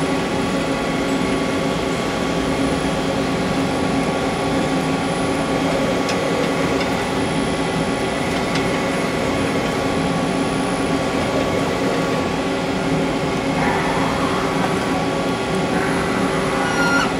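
A Hyundai HIT-15S CNC turning center running, a steady mechanical hum with several constant tones, joined by a shifting whine near the end as something moves, with no talk.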